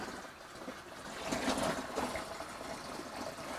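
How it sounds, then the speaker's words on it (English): Cold water is poured into a vessel for home-brewed wine, a steady splashing gush that swells in the middle and continues as a trickling flow, with no talking. "Okay, so now we're going to add some cold water."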